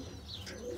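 Birmingham Roller pigeons coo softly in a short, faint burst of low throaty calls with a faint chirp, heard close but quiet.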